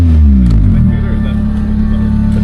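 A cheap 1.6-litre junker car engine with a hole in the exhaust revs loud and close, a deep rough blat that settles to a throaty idle while someone talks.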